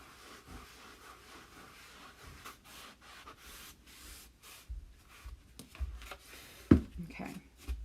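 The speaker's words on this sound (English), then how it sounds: "Getting all that extra wax off of there." Cloth rubbing excess wax off a chalk-painted wooden table, quiet scuffing strokes repeating unevenly, with a few louder knocks near the end.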